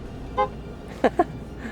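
Tesla Cybertruck horn honks from inside the truck in Dubai, in the cabin: one short beep, then two quick toots close together, moderately loud over a low road rumble.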